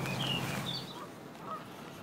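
Ducks or geese give a few short honking calls, moderately distant over steady outdoor background noise on a wet path in a garden car park, with no talk.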